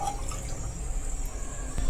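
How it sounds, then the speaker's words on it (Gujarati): Water poured into khaman dhokla batter in a home kitchen, a steady close liquid trickle and splash lasting under two seconds. "હવે પાણી નાખતા જઈશું અને સરસ મજાનું બેટર તૈયાર કરશું."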